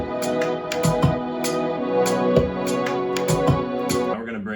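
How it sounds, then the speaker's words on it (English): A percussion drum loop plays in Logic Pro X over sustained synth chords, with crisp hand-percussion hits in an irregular groove and deeper thumps, ending with a short fading flourish. "So I found this drum loop that I really like, and it's kind of like percussion"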